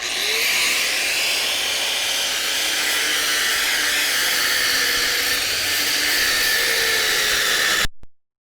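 An angle grinder with a fresh cutting disc grinds into a quarter-inch-deep weld on a Ram Charger frame, a loud continuous high whine held steady for several seconds before cutting off abruptly.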